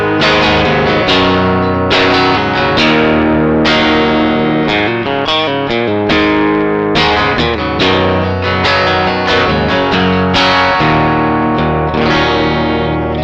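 Telecaster played through a NUX 63 Diamond Vox-style pedal with added gain: a steady run of loud, slightly driven guitar chords and single notes with a touch of ambience, no talking.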